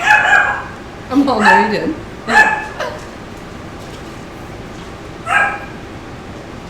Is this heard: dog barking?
yes